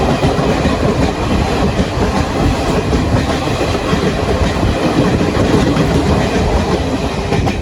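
A Garib Rath Express passenger train rolls past close by at a modest speed, a loud, continuous rumble with rhythmic clickety-clack of wheels over rail joints throughout.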